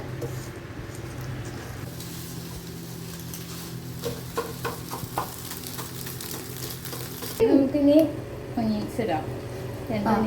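Eggs scrambling in butter oil with salt and pepper in a pan give a steady close sizzle and frying hiss throughout, with brief stirring scrapes and a voice and other talk rising over it near the end.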